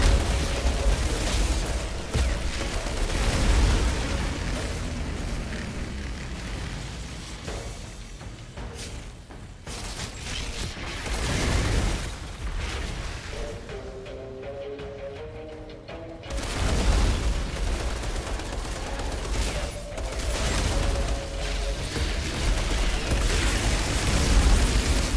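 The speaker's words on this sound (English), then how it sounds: "Explosions, the claymore." Claymore explosions go off in the video game Outriders Worldslayer amid continuous loud booms, bursts and dense gunfire-like noise, with a brief quieter dip midway before the heavy blasts resume.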